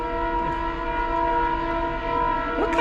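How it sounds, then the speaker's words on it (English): A train rolls past nearby, its horn or whistle sounding a steady sustained chord throughout, with rumble underneath and no talking. "I'm gonna be silent and carve while this train goes by."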